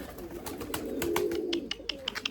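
Close, steady cooing from purebred Erzurum white domestic pigeons, a low warbling call running through the whole moment, with light scratches and taps from the birds over it.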